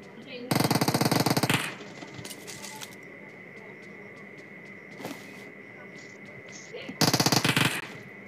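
Gunfire in the PUBG Mobile video game comes as two loud bursts of rapid automatic fire, one at the start and one near the end, with quieter game ambience and a few faint pops between.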